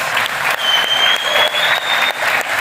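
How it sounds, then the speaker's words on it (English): An audience at a business talk on B2B SaaS pricing gives a big round of applause, brisk steady clapping with a thin high whistle-like tone running through it. "Big round of applause."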